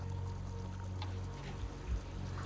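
Water flowing through the ancient Roman Aqua Virgo aqueduct channel, a faint, steady wash with soft trickling and a couple of slightly louder splashes, heard alone.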